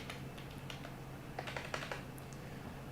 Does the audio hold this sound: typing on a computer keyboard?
yes